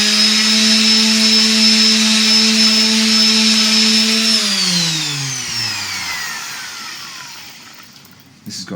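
Power sander fitted with 240 grit on a guitar, a loud steady electric whine with strong harmonics that winds down in pitch as the motor is switched off, followed by a few faint knocks.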